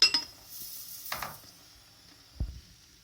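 A spoon knocking against a pot while chestnut rice pilaf is stirred, three separate sharp clinks with quiet gaps between them, close and fairly faint.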